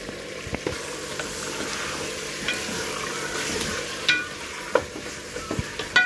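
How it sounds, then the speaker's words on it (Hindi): Chicken pieces fry with salt in a pan, a steady sizzle broken by frequent spoon scrapes and sharp clinks against the pan, close and clear with no talking. "इस नमक में ना मैं अच्छी तरह बोटियों को फ्राई कर लूंगी।"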